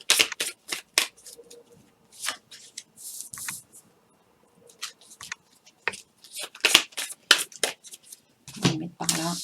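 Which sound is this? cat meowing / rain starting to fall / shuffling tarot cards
shuffling tarot cards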